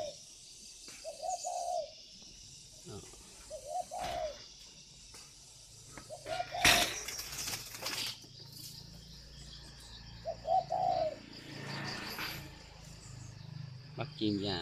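Spotted doves coo in repeated soft phrases roughly every few seconds, close by, with a sudden burst of wing flapping partway through over a steady background hum.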